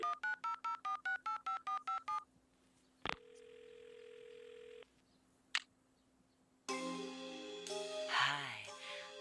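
An old telephone in a video game: a rapid run of touch-tone dialing beeps, then a long steady tone, a couple of clicks, and a warbling ringback with rising electronic squeals, fairly quiet overall.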